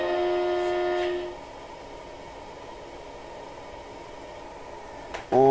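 Locomotive in Pro Train Perfect 2 with a steady horn tone at the start that cuts off, leaving a low rumbling hum of the moving train, then a second horn blast rising sharply at the end.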